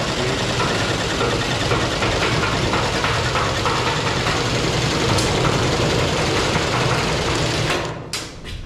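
A power saw rips through construction panels with a steady, loud, dense roar that holds for about eight seconds, then cuts off into a few quieter stutters as the blade winds down.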